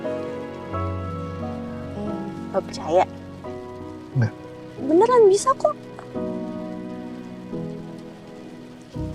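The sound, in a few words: heavy rain falling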